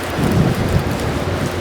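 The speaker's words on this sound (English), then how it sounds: "The wind is really messing us up." Strong wind buffets a fishing boat on open water near a spillway, a steady low roaring rush that holds loud and even throughout, with no speech.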